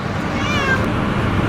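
A cat meows inside a car, giving one drawn-out close meow over steady road rumble, with no talk.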